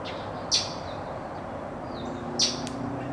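Birds perched on a neighboring house roof give two sharp, bright chirps about two seconds apart over a steady outdoor background hum; no talking.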